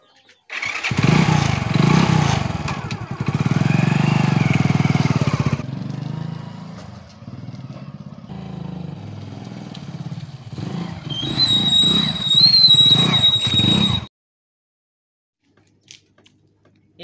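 A motorcycle engine runs loudly and steadily, then splutters and dies once it runs out of petrol, leaving near silence. Voices are briefly audible over the engine.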